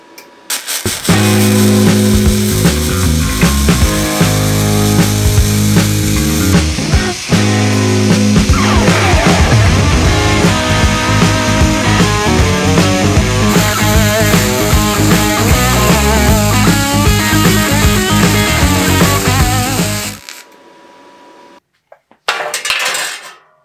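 Flux-core arc welding with S-Welder wire, a loud continuous crackling and sizzling arc running steadily for about twenty seconds before stopping, followed by a brief quieter spell and a short final burst.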